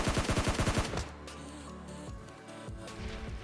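Rapid gunfire in PUBG Mobile Lite, a fast burst of repeated shots at first, then quieter game sounds and scattered distant fire, with no talk.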